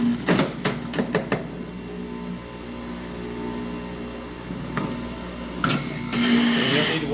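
A whole green apple, seeds and stem included, is ground up in a machine, with rough, clattering grinding bursts at the start and again near the end, and a quieter stretch between.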